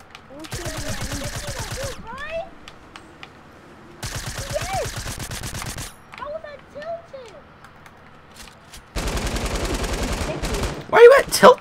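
Gunfire in a Fortnite match: three long bursts of rapid automatic shots, loud and close, with quieter gaps between them where a voice speaks over the game sounds.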